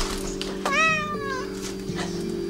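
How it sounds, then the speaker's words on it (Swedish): A cat meows twice close by, a clear rising-falling call followed by a shorter one, over a low steady background hum in an indoor setting. "Och här var det en katt."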